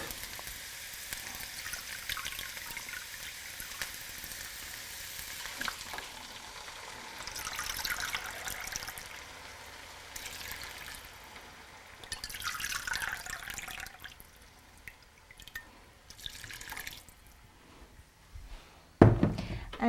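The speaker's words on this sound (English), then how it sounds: "we're going to add 3 cups of water." Water is poured into a pot of rice in a home kitchen for an Indian dish, a continuous hissing, splashing flow that swells and eases in several pours, then ends with a clunk.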